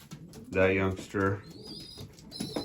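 Racing pigeons in a loft give two low, throaty coos close by, followed by fainter soft calls and chirps, with a bit of background noise between them.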